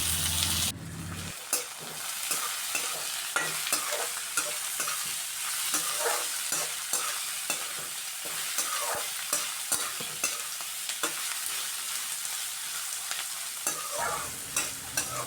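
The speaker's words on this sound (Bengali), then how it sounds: "এইভাবে পেঁয়াজটা দিয়েও আমি ভালো করে ভাজা ভাজা করে নিচ্ছি।" Chopped onions fry with garlic in a pan, a continuous close sizzle broken by regular scraping stirs of a utensil against the metal, without any talking.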